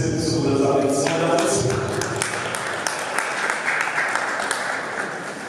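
Applause from an audience at the Future Team Tchad 2022 launch cocktail, thanking a speaker from the association for his address; dense clapping fills the room, with a voice speaking over it at the start.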